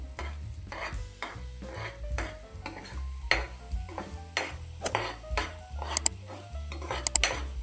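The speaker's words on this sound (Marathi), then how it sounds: "तुपामध्ये परतून घ्यायचा आहे तर हलकासा खवा भाजून घ्यायचा आहे ह्याला करपुतीचं नाही सतत हलवत राहायचं आहे" Khoa roasting in ghee over a low flame while being stirred continuously in a pan, heard as repeated scraping and clinking strokes of a spoon against metal with a faint sizzle underneath, close and steady, with no voices.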